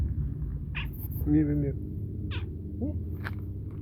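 Cat meowing indoors: a few short meows spaced through the clip, fairly close, with a person talking softly around them.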